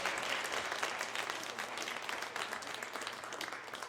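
A Korean church congregation claps during Sunday worship after a certificate presentation, giving a short burst of dense, continuous applause that fills the sanctuary and fades slightly toward the end.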